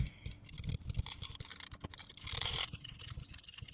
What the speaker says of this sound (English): Now we're just going to whisk all of this together.